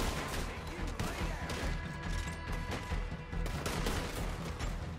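Dense, continuous bursts of rapid gunfire in Red Dead Redemption 2 crackle over a busy, noisy background, with sharp impacts layered throughout.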